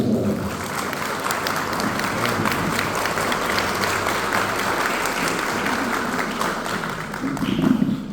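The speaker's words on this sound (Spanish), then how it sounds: "Un aplauso de bienvenida para" Steady, dense applause from an audience welcoming the next guest at a live event in Pedro Juan Caballero continues evenly for about eight seconds, with some crowd voices underneath.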